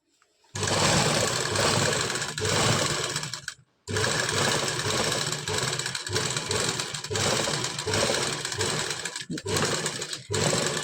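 A sewing machine stitches fabric close up with a loud, fast, continuous mechanical whir in long runs. It stops briefly a few times between bursts, and no one talks.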